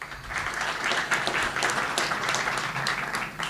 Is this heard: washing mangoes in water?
no